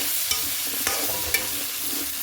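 Beef fry with green chillies, shallots and salt is stirred in a pan, a close steady sizzle with three sharp scraping clicks of the spoon and no voices.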